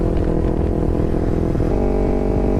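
A 2011 Kawasaki Ninja 250 motorcycle engine runs under way with a slight carburetor-related spitting and sputtering, a loud, close, continuous engine drone with faint irregular roughness.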